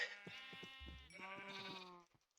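Sheep bleating in an open-range survival multiplayer game, several overlapping calls in a steady rhythm, loud and close with no talk.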